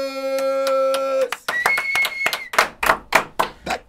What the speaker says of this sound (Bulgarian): Така че, вашите аплодисменти за